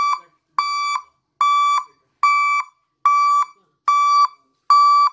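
A car reverse gear alarm sounds alone and loud, repeating seven even electronic beeps, each lasting about half a second and separated by short silences.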